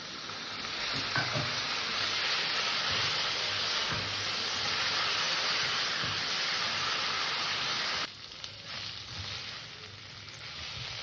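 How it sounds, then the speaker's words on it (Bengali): Poppy seed paste with a little water fries in a pan, giving a steady, bright, close sizzle with occasional stirring scrapes; the hiss drops noticeably near the end. "পোস্তটা কষার সময় আমি হালকা একটু জল দিয়ে দিলাম"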